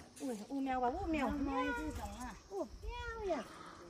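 A cat meows several times in a village setting near Ghachok, Pokhara, wavering mid-pitched cries mixed with nearby human voices.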